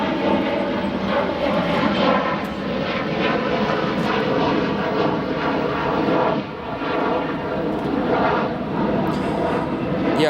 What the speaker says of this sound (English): that was a FedEx MD-11 freighter